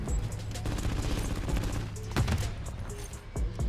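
Dense, continuous gunfire in Call of Duty: Modern Warfare III, with rapid overlapping shots and a few heavier cracks and impacts punching through a loud, steady barrage for several seconds.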